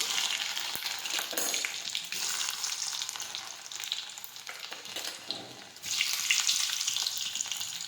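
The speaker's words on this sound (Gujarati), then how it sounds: "હવે તેમાં આપણે રાઈ નાખી દઈશું. લસણ નાખીશું." Mustard seeds and garlic dropped into hot oil for a Gujarati guvar chhashiyu, giving a steady, loud crackling sizzle with a fresh surge of frying noise near the end.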